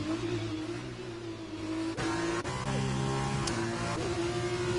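Formula 2 race cars in a racing video game on the Singapore street circuit, engines droning steadily with shifting revs as one car overtakes another, loud and continuous throughout.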